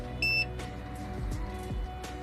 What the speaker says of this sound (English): you will hear a single beep